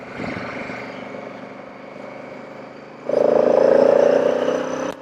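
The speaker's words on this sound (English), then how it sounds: "Yeah, quite a lot more induction noise" A steady 2018 Honda Africa Twin Adventure Sports engine drones close by, then revs up into a louder, rasping intake roar before easing off slightly.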